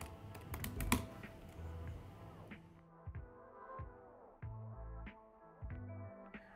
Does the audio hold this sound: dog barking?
no